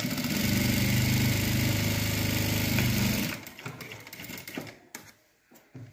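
A sewing machine stitches a blouse seam in a steady, loud mechanical run that stops abruptly about halfway through, followed by quieter handling clatter and soft knocks.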